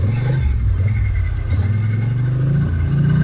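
A Polaris Sportsman ATV rumbles loudly and steadily close by as it climbs over a culvert in four-wheel drive, the engine holding a low drone with a slight rise and fall.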